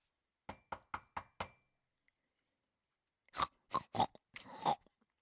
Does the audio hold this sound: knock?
yes